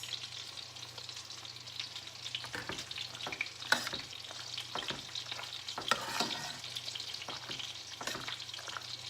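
A spoon stirs a thick, creamy Alfredo sauce in a pan as cheese melts into it, with a soft, steady sizzle and scraping strokes that come in irregular bursts, close up, with no voices.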